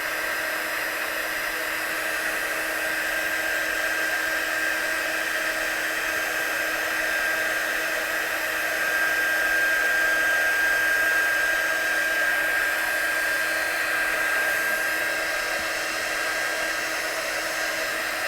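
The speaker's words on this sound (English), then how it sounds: "So the heat gun will naturally push the colour around." A heat gun blows continuously while pushing wet watercolour paint around, a steady close whooshing whine with a high tonal edge that holds at the same level throughout, with no talking.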